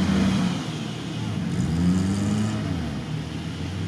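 A Suzuki Samurai off-road, tyres fitted with chains, its engine holding a loud, steady revving drone throughout with slight swells in pitch, close by.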